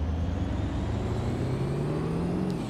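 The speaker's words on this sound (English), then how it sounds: "But the sound of the car is crazy." A synthetic car engine in the video game Watch Dogs: Legion drones loudly and continuously, its pitch climbing steadily as it revs up, with no voices.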